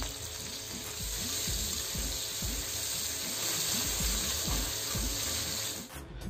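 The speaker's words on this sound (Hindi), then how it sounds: "उसके बाद हरी मिर्च प्याज को डाल के हल्का सा भूनेंगे इसको" Green chilli and onion frying lightly in oil with a little sugar in a kadhai, a steady close sizzle with rhythmic scraping stir strokes throughout, no one speaking.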